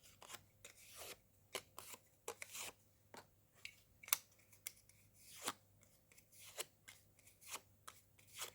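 Scissors snip paper to round off its corners, a series of close, crisp cuts in an uneven rhythm, quiet and alone with no voices.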